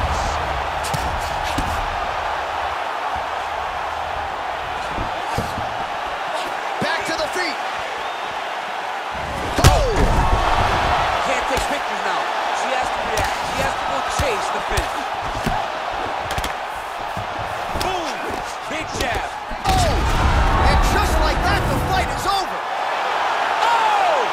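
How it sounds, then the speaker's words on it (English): Punches and kicks thud in the EA Sports UFC 4 video game, scattered impacts over a steady crowd roar while a commentator talks throughout. "Beautiful diving strike lands."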